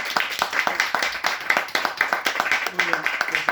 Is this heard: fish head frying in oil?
no